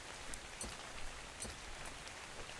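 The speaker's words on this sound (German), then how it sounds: "Es regnet!" Rain falls in the video game Ark: Survival Evolved as a steady, soft patter of drops hitting surfaces, with no voices over it.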